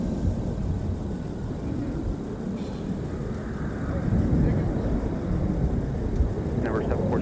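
A jet airliner taxiing on a snowy winter day at MSP airport, a steady low engine rumble with a whining tone that swells slightly as it approaches, heard from nearby over wind noise.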